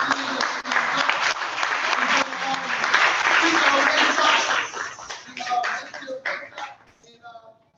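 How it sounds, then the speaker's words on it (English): Dense, steady audience applause fills a Passover (Chag Pesach) gathering, loud and close, thinning out toward the end as voices start talking over the last scattered claps. "Everybody give him a hand of applause."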